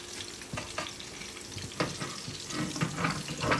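Sliced onion fries gently in oil in a home kitchen, a dense, steady hiss with soft crackles and occasional stirring scrapes, close and fairly quiet.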